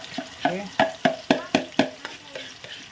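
Ground spice paste frying in a pan for a Malay-style catfish dish, with a steady sizzle cut by a regular series of scraping stirs, about nine strokes close to the microphone with no talking.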